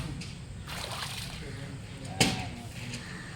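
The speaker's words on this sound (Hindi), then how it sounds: "हमारे मुंह पे पानी उठा के मुंह पे मारिए ना" Water sloshes and splashes in a swimming pool, loose and close, with one sharp splash standing out, under ongoing talk.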